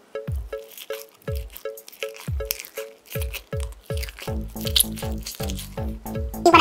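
Fingers squish and squeeze gak slime, producing wet, sticky squelches in a steady repeating rhythm of about two or three per second, close and clear, with no voices.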